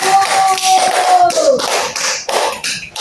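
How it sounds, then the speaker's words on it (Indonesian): Students in a classroom clap for a classmate, a short patter of hand claps mixed with chatter and a faint whistle-like tone, close and brief. "Ayo beri tepuk tangan karena sudah berani maju."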